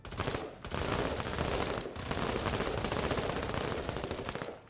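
Sustained automatic gunfire in the video game MENACE: loud rapid bursts roll on with two brief pauses between them, and no voices are heard.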